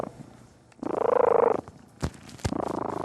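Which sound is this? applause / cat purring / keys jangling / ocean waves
cat purring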